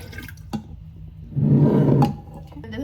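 Freshly squeezed juice is poured into a second container: a short, hissing liquid gush that swells for about half a second and then tapers off, close up, with no voices.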